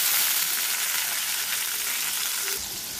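Vegetables with cumin paste sizzle and fry steadily in a pan, a loud, continuous hiss with no talking.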